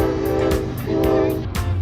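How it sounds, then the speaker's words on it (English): Norfolk Southern intermodal freight train sounding its horn in several short repeated blasts, loud and close, over the rumble of the passing train. "The engineer of this intermodal was really nice and blew the horn for us out on the deck"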